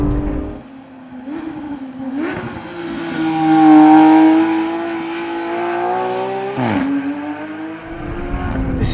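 A 991.1 Porsche 911 GT3 engine revs hard and climbs toward 9,000 RPM, with a rising, sustained wail, brief drops between gear shifts, and loud, close, aggressive acceleration with no talking.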